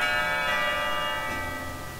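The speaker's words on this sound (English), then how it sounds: "it isn't long before the bells are signaling the end of the break" Several bells ring together in a sustained, shimmering clang that fills the space and slowly fades, loud and continuous, with no voices.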